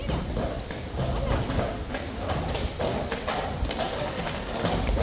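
Cavalry horse hooves clip-clopping at a walking pace over a hard parade ground, mixed with outdoor crowd noise and voices in the background.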